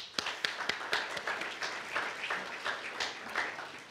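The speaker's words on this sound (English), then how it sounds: "Let's give them a round of applause" Audience at a community building dedication ceremony gives a round of applause, scattered, fairly close hand claps of moderate loudness.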